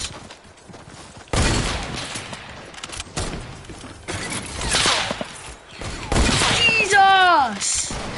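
Rapid video game gunfire bursts crack through a busy mix of game effects and shouting voices, loud and close, with a rising whistle-like tone near the end.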